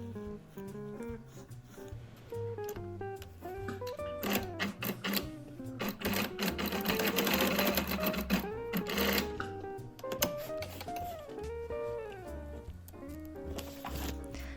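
Sewing machine running a short straight stitch through jacket facing and fabric around a piped buttonhole, a steady close mechanical whir with rhythmic needle clatter and slight speed changes, fairly quiet.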